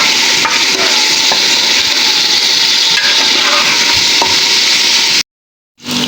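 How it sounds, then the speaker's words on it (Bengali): Mixed vegetables for a Chinese-style dish being gently stirred in a hot pan, a loud continuous sizzle with soft scraping, cutting out abruptly near the end before resuming. "আলতো করে নেড়ে দিতে হবে। বেশি নাড়াচাড়া করা যাবে না।"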